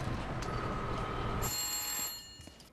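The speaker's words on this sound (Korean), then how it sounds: "콕스가 친구에게 전화를 거는 사이" Telephone ringing in a film as a call is placed: a bright, high electronic ring enters partway through over a low rumbling background, then fades as the clip ends.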